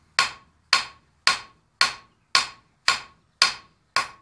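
A blacksmith's cross peen hammer strikes hot iron in eight evenly spaced, sharp ringing blows that each decay quickly, loud and close with nothing else audible.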